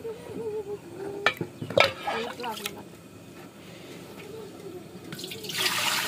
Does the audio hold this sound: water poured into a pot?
yes